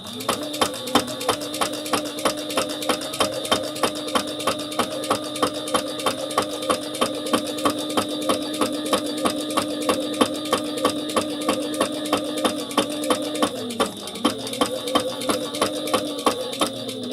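A sewing machine top-stitches fabric with a loud, fast, steady mechanical chatter of needle strokes. The rhythm holds evenly and falters only briefly near the end, with no voices.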